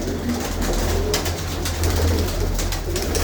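Pigeons coo in low, repeated throaty calls close by, with faint rustling and outdoor background noise throughout.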